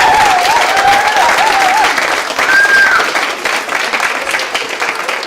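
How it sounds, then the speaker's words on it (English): A school awards-evening audience gives loud, sustained applause for the drama festival's tech team, a dense roar of many hands with a few whistles and cheers rising over it. "join me now in a round of applause for our fabulous tech team"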